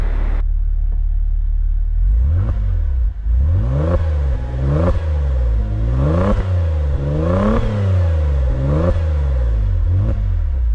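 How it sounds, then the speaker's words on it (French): A 2.8L V6 turbo engine in an Opel Insignia Sport Tourer OPC idles, then revs repeatedly in about six rising and falling blips, close and loud. "Est-ce que tu nous ferais pas entendre un peu ce V6 un petit peu"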